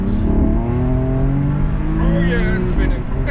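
Tuned BMW F80 M3 accelerating hard with traction control off, wheels spinning, its engine climbing loud and close with a rising whine as a voice speaks over it.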